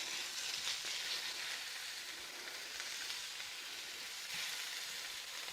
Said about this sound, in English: we're going to saute them and cook them in the frying pan